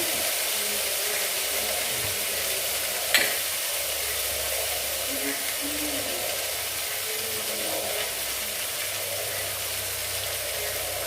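Pasta frying in a pan with soy sauce added gives a steady, close sizzle that runs throughout. There is a brief clatter of stirring partway through and no talk.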